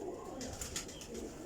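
Teddy and Rampuri pigeons coo softly in a short, faint burst of low, rolling throaty calls, with no one talking.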